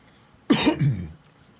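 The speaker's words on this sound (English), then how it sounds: "Excuse the cough when it comes up a couple times." One short, rough cough from a man getting over a cold, with a throaty clearing sound, close up in an otherwise quiet room.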